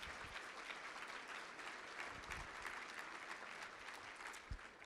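A room of people at a charity breakfast applauding judges and commissioners, steady distant clapping with a faint crowd murmur underneath and a few louder claps near the end.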